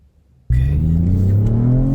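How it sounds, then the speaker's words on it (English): A new car's engine starts abruptly and then revs and accelerates steadily, its loud, rising mid-pitched drone close and continuous with no talking. "we're going to see what it's like to drive this car"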